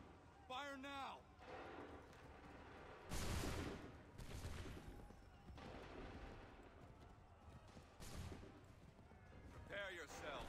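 Musket volleys in Assassin's Creed III: a few loud, broadband blasts around the middle of the clip, set among shouted commands, battle ambience and the thud of horse hooves.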